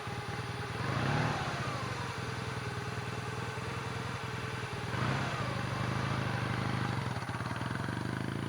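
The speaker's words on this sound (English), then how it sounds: "That's a cool motorcycle." A motorcycle engine idles in a steady, faint, low putter throughout, with a couple of slight swells in loudness and no clear voices over it.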